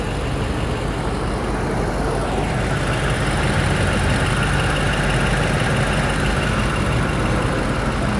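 A 2021 BMW X5 M Competition engine runs with a steady, loud, low rumble, shifting slightly in tone early on before settling into an even idle, close up and alone.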